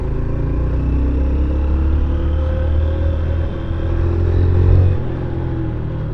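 A Suzuki motorcycle engine idles with a steady low rumble, swelling briefly as it revs a little and then settling back.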